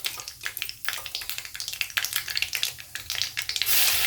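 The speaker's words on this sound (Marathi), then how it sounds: "आपण हिरवी मिरची आणि लसूण बारीक केलं आहे ते टाकून घेऊ" Green chilli and garlic dropped into hot oil with crackled cumin and mustard seeds, frying in a steady close sizzle and spatter that swells louder near the end, with no talking.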